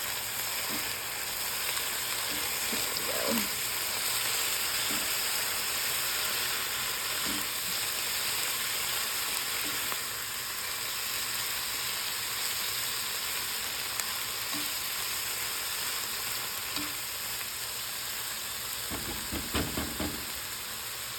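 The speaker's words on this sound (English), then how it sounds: "The garlic going in there." Garlic frying in a pan with blue oyster mushrooms and bacon, a steady broadband sizzle holding for the whole stretch, with a few soft utensil taps and a brief burst of stirring clatter near the end.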